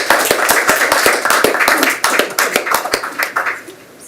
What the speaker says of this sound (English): while applause is going on